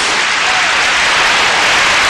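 A church congregation claps hands together, a dense, loud, continuous wash of applause with no single claps standing out.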